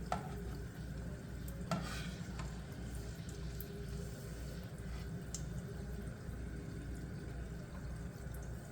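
Arancini rice balls fry fully immersed in hot oil, giving a steady close crackling sizzle with a few light clinks and stirring touches, and no talk over it.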